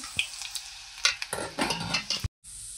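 Oil crackles and sizzles in bursts as chillies and curry leaves fry and a spoon scrapes and stirs the pan, with clinks of metal, ending in a brief silence.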